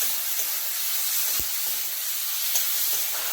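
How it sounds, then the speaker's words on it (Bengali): Tomato frying with salt in a pan, a steady bright sizzle hissing without pause, with a few soft stirring knocks from a spoon against the pan. "ভালো করে কষিয়ে নিতে হবে।"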